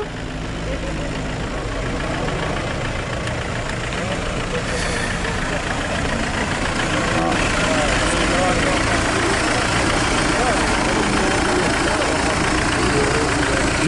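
A car engine idles steadily at a car market in Ras El Oued with a constant low rumble throughout, while people talk over it nearby.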